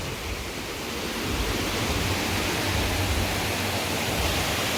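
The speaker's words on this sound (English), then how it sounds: "Water just calm and pretty running." Water pours steadily at Somerset Falls in Portland, Jamaica, a constant broadband rush that swells slightly after the first second and then holds even and fairly loud, with no voices.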